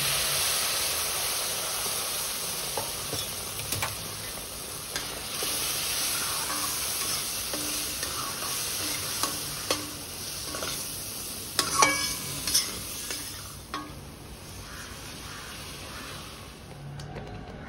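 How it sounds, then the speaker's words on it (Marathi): Milk is poured a little at a time into sizzling semolina sheera with cashews in a pan, producing a steady loud hiss of frying with occasional sharp spattering pops and faint stirring clinks. "आणि आता मी यात दूध घालते। सगळंच दूध आपल्याला एकदम घालायचं नाहीये, थोडं थोडं करत आपण दूध घालूया।"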